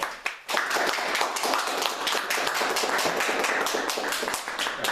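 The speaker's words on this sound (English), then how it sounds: "please give a round of applause for Tabitha Ward." Audience applause at a Brooklyn Tea Party political meeting, a dense, steady round of clapping from a crowd lasting several seconds, fairly close and moderately loud.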